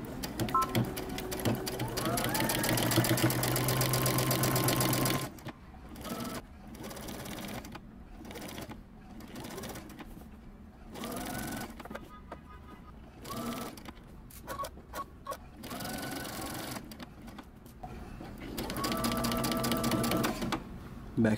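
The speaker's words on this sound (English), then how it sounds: "we're going to take this over to the sewing machine and we're going to stitch right along the edge all the way around" A sewing machine stitches along the edge of a man's fitted shirt pocket, running steadily and loud for several seconds, then continuing in short stop-start bursts with pauses and backstitching, before a final sustained run.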